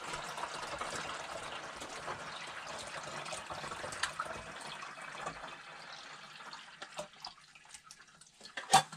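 Water runs into a film developing canister during black-and-white film processing, a steady close splashing pour that thins out toward the end with a few drips and small clunks.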